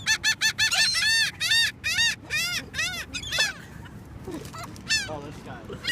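Seagulls at the beach in Wildwood, New Jersey, call loudly while being fed, a rapid run of nasal honking cries up close followed by more scattered, fainter calls.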